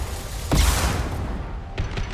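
A high-impact shot fires in Mass Effect 2 with a sharp crack and a heavy boom. Two fainter shots follow about a second later amid steady game ambience.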